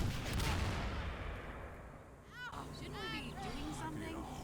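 An explosion in Garry's Mod sounds as a broad loud rumble and crackle, fading over a couple of seconds, followed by faint game tones and chirps in the background.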